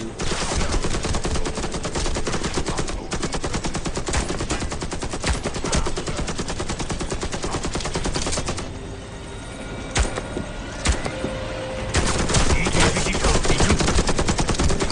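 Rapid bursts of automatic gunfire from the video game Warface 2, loud and nearly continuous, with a brief lull in the middle before the firing resumes heavily.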